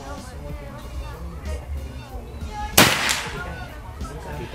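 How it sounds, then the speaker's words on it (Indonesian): A single sharp crack of a PCP air rifle shot during a long-range accuracy test cuts through quiet background, short and fairly close, with a brief tail afterward. "Sekarang tembakan yang kedua untuk tes akurasi yang pertama."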